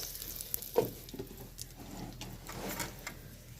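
Cooked rice mixed with turmeric and salt for chitrannam, with soft scraping and stirring strokes in a pan, quiet and close, with a few louder knocks.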